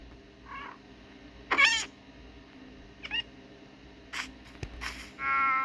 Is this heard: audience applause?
no